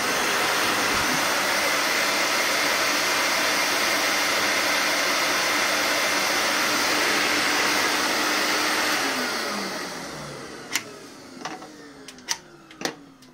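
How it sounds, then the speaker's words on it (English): A Record Power Cam Vac wall-mounted woodworking dust extractor running with covers on its hoses gives a loud, steady broadband roar that winds down near the end, followed by a few sharp clicks and knocks. "test out if on the video can be heard the noise reduction from the hoses"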